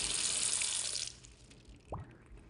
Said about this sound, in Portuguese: Lavam a louça com a torneira aberta.